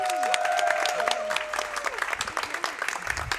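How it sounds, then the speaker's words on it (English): A speedrun event audience claps in warm applause that is loud at first and then thins to scattered claps, with a voice speaking over it. "So huge round of applause for them"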